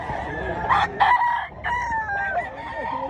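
A gamecock crows loudly and close by at a rooster expo and auction in Mantalungon, Barili, Cebu, one long drawn-out call over faint background chatter and noise.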